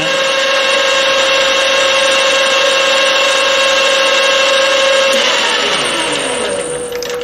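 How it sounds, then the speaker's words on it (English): A 5mm spot drill cuts the centre of a lathe spindle indexer part, giving a loud, steady, close machine hum and whine with a pitch shift near the end. "going to spot drill the centre now. As it's a 5mm spot drill,"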